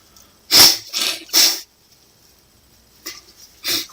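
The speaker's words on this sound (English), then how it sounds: "excuse me for having to sneeze over and over" A congested, sick person sneezes repeatedly and loudly up close: three forceful sneezes in quick succession, a short pause, then two more bursts, with no talking.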